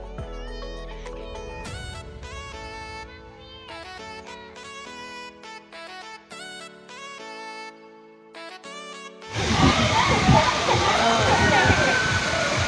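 A large bucket tips and dumps water down with a loud, sustained rushing splash at a water park, bursting in after a stretch of music and continuing to the end.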